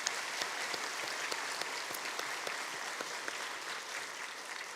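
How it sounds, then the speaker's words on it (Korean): A church congregation applauds during a Sunday service, a soft, even patter of many hands clapping, faint and somewhat distant, sustained throughout. "박수 한번 쳐주시죠."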